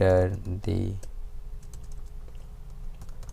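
Quiet, scattered keystrokes on a computer keyboard while writing Python code, following a brief spoken word at the start.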